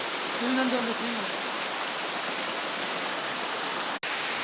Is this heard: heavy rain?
yes